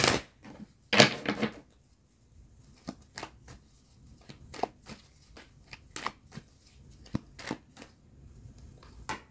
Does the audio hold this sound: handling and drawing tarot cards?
yes